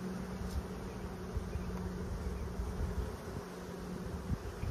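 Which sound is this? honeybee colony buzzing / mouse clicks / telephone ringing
honeybee colony buzzing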